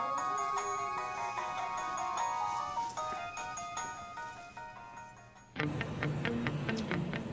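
A mobile phone rings with a bright repeating electronic melody over background noise, continuing loud and alone, then a harsher, denser burst of sound takes over near the end.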